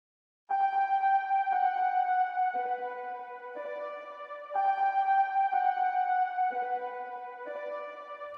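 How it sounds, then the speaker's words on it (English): Sampled OB6 analog synthesizer warm lead played through a low pass filter, mellow sustained notes stepping through a slow melodic phrase with rich reverb tails, heard alone and moderately soft. "So a really rich, reverby OB6 warm lead sound."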